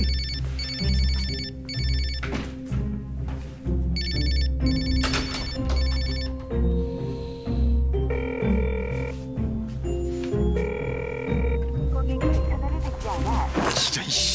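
A telephone ringtone plays a loud, repeating electronic melody for a long stretch while the call goes unanswered, with a brief pause between phrases and faint voices in the background.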